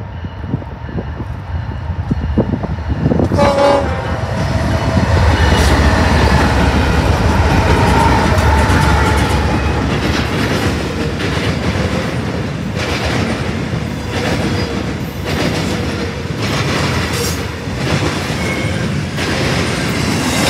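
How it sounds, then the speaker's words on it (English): A BNSF intermodal freight train led by locomotives rolls past loudly and close at Wellsboro, with steady wheel rumble and clickety-clack on the rails and occasional squealing over a long, continuous pass. "BNSF intermodal rolled through, with two Jivos sandwiching an ace. Pretty boring lashup, but I did get a horn salute"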